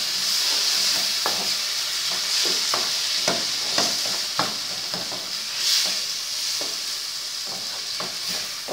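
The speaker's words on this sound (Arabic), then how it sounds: "ونقلب." Garlic and tomato paste sizzle and fry in a pan while a spoon stirs them with repeated scraping clicks over a steady hiss, close and alone, as the sauce base for a baked fish and rice tagine.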